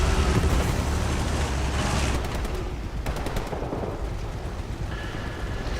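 Gunfire in a WWII video game set in the 1940 campaign in France, with bursts of rapid automatic shots over a dense rumbling battle background. Shots come in short clusters, fairly loud, with no voices.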